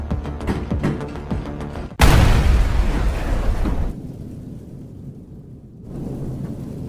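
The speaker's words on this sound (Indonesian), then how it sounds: "Karena botol gas ditaruh di atas kompor, tentu saja meledak" A gas cylinder left on a stove explodes: a sudden loud explosive boom bursts in after a busy stretch, followed by a rumbling roar that fades into quieter background.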